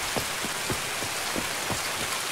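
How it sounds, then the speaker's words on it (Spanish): Heavy rain falls on the Shoreline map in Escape from Tarkov, a dense, loud, steady hiss with soft thumping drops in an even rhythm and no voices. "Yo no he visto que esté lloviendo tanto"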